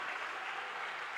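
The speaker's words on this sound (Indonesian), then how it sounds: "Tepuk tangan yang paling kencang buat Tuhan." Church congregation applauding, a soft, even patter of many hands clapping continuously, distant and fairly faint, with no voices.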